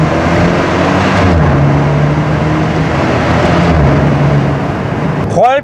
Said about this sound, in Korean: 4기통 배기음 터널에서는 어떨지 이것도 들려드리는 게 좋겠죠